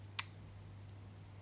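One crisp click of a dog training clicker, close and sharp, over a low steady hum, with a much fainter second tick shortly after.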